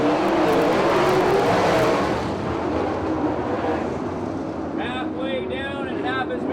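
Open 360 and 410 sprint cars race around the track at Victorville Raceway Park, a loud roaring engine drone that swells and then passes, with a commentator talking over the racing noise.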